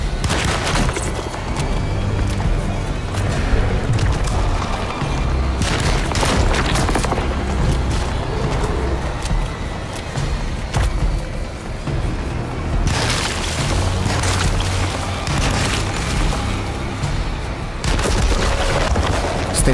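Rifle fire and explosions in a video game pound in heavy, dense bursts, booming blasts mixed with rapid shots, loud and continuous with short lulls between volleys.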